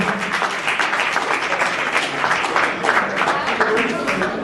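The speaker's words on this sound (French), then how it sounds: "est-ce qu'on peut applaudir bien fort pour l'artiste Mimika Bongo?" Audience applause at an awards ceremony held in a hotel, a dense steady wash of clapping that carries on evenly from start to finish, with voices blending into the crowd noise.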